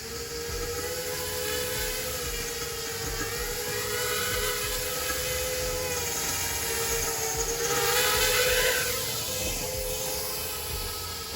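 An FPV drone fitted with T-Motor Stan 2604 1690Kv motors hovers and flies nearby, giving a steady high-pitched whine whose pitch drifts and rises as the throttle changes, loud and continuous with no talking.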